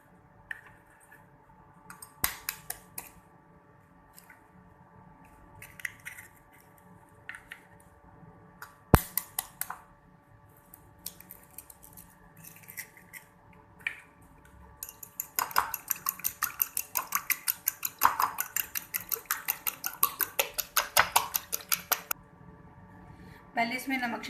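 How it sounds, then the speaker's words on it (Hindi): Eggs whisked in a bowl for an egg burger, first scattered taps and clinks of utensil on the bowl, then a long fast, even run of metallic beats as the whisking picks up, close and clear. "पहले अंडे फेंट लेंगे हम।"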